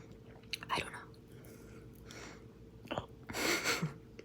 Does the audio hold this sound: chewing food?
yes